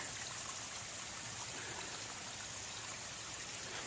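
A small stream near a hammock base camp gives a steady, even rush of running water. The flow sounds close and unbroken, with no voices or other sounds over it.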